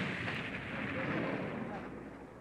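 Explosive charges go off on a miniature Death Star model during 1977 special-effects filming, a loud, rumbling burst that swells and slowly decays.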